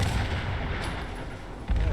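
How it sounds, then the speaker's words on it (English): Cars blowing up in the video game Fallout 76, a loud continuous rumbling explosion with deep booming low end that swells again near the end, no voices. "let's get a big explosion. I love watching these things blow up."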